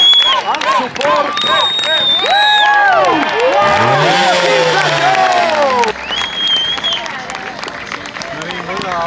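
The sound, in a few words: crowd applause, whistles and shouts at a motorcycle trial show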